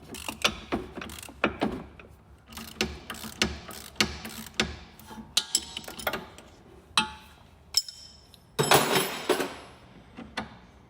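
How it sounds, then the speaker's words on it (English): Ratchet with a spline bit turning a sway bar link nut on a Chevy/Holden Cruze while a spanner holds it, giving a close series of sharp, irregular clicking bursts, with a denser rattling burst near the end. "I'm going to use the ratchet to rotate it and just hold it still with the spanner."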